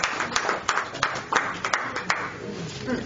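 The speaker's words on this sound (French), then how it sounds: "Des applaudissements, s'il vous plaît." Audience applause at a press conference for a gospel album launch, a brief burst of scattered clapping from a room of people, moderately close and fading within a few seconds.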